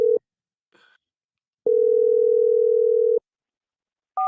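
Steady telephone dial tone heard in short bursts, a brief blip, then a longer continuous tone of about a second and a half before cutting off, loud and clear with no talking.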